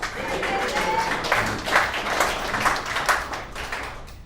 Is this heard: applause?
yes